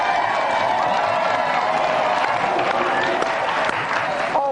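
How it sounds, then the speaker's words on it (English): Studio audience applause on a 1996 video-game TV show as two football guests are introduced: dense, sustained clapping from a crowd, loud and steady throughout, with some cheering mixed in. "please give a round of applause for our 2 special guests tonight, Michael Duberry, Richard Rufus."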